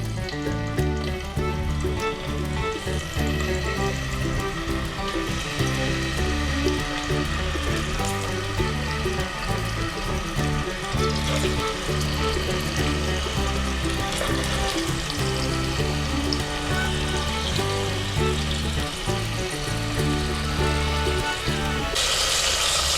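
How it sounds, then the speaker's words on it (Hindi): Paneer pieces fry in two tablespoons of ghee in a kadai, a continuous sizzle that is partly buried under loud, steady background music throughout. "हमने लिया है 2 टेबलस्पून घी और उसमें हम पनीर फ्राई करेंगे।"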